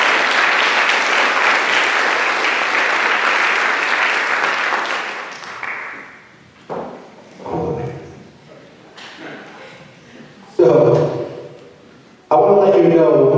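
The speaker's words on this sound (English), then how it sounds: "I'd like to give them a nice round of applause." Audience applause at a National Honor Society induction ceremony, loud sustained clapping for about five seconds that then dies away, followed by intermittent bumps, shuffling and voices in the room.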